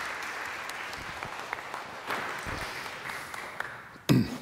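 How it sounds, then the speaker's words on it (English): Moderate applause from a church congregation, a loose spread of claps that thins out, then a sudden louder bump and short burst of clatter near the end. "Give Brian a little round of applause."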